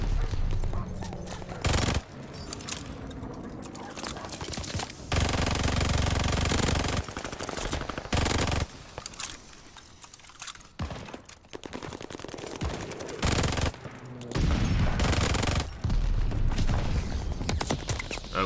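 Gunfire in Call of Duty: Vanguard, a multiplayer match with the Nikita AVT rifle: loud bursts of rapid automatic fire in repeated volleys alternate with quieter gaps, and a voice talks at times.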